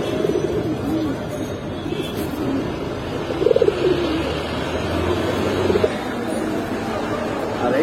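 Pigeons kept for sale coo now and then in a pen. The coos are soft and low under steady background noise and murmured voices.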